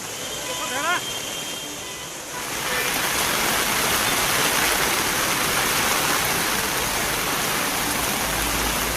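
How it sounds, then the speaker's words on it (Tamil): Heavy monsoon rain falls in Valsad district, Gujarat, as a loud, dense, continuous roar of water that swells after a brief quieter opening and stays steady throughout, with a voice heard over it. "குஜராத் மாநிலத்தில் மீண்டும் வேகம் எடுக்கும் தென்மேற்கு பருவமழை"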